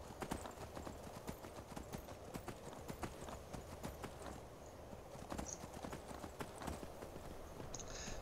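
Horse hooves clip-clop steadily in the Skyrim video game, a brisk repeated rhythm of close, loud hoofbeats over a constant background bed, with no talking.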